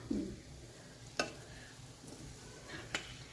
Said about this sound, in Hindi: अम्मी ज़रा चम्मच हिलाओ